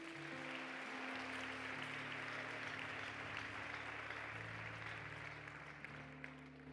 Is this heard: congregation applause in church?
yes